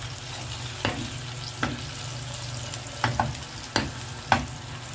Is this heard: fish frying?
yes